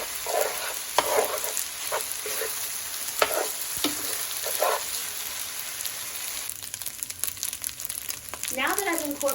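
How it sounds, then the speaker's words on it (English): Fried rice sizzles in a hot pan with hoisin and soy sauce, a steady crackling hiss marked by scraping stirs and spoon knocks, close-up and continuous with no one talking. "I'm going to give the rice a few minutes to fry with the sauces in"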